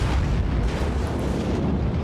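Battleship main guns fire in World of Warships, a deep, continuous booming roar that stays loud and heavy throughout the short stretch, with no speech over it.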